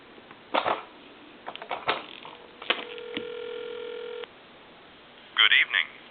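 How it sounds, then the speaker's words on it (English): A telephone being handled and dialed: a few clicks and knocks, then a steady dial tone for over a second, followed by a quick burst of touch-tone beeps, all close and clear. "I'm going to give you some dial tone. I'm going to call a time and temp"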